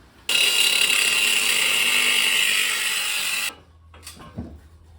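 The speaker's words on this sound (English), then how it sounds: "I switched to the Sawzall" A Sawzall reciprocating saw cuts through the exhaust pipe of a custom Honda Accord build, a loud, close, continuous buzzing rasp lasting about three seconds before stopping, followed by a few faint clanks.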